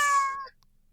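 A single short, high cat meow, close and bright, cutting off quickly into near silence.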